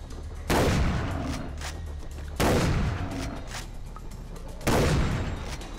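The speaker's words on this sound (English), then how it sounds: "So we're just gonna go on a shooting rampage until we find the one we want" Three heavy gunshots in the video game Far Cry 3, spaced about two seconds apart, each a loud close boom with a long rumbling decay.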